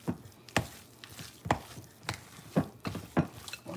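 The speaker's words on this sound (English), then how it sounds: "Want to make sure this egg is" A spoon stirring raw egg into a potato mixture, a series of wet, scraping strokes coming roughly every half second, close and fairly quiet.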